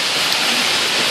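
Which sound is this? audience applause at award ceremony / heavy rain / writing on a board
heavy rain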